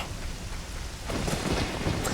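Steady rain falling in the video game Zelda: Ocarina of Time, a soft constant hiss that grows denser and louder about halfway through, with no talk over it.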